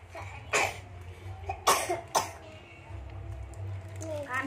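Several sharp coughs burst out, a couple close together, with quieter background sounds and a low hum between them.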